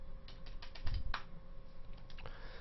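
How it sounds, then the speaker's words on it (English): Quick, faint typing on a computer keyboard, a light run of key clicks with one louder tap partway through, over a low background hum. "I was able to type that in so fast because I have a keyboard."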